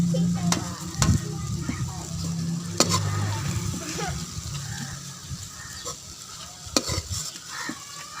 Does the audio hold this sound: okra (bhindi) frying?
yes